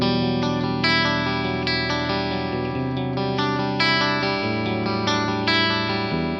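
Electric guitar on bridge and middle pickups played through an Axe-Fx 3 CA3 Clean amp model with a cab IR, a neutral, sparkly clean tone with ringing chords and repeated picked notes, played alone.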